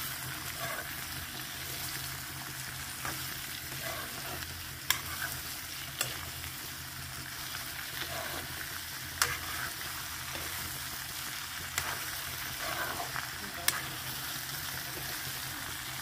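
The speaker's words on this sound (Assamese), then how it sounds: "আপোনালোকক কঁঠাল আৰু ব্ৰইলাৰ মাংস ভাজি থকা ধুনীয়াকৈ দেখালোঁ।" Jackfruit and broiler chicken sizzle steadily in a pan while a spatula scrapes and taps the pan every few seconds, close by and with no talking.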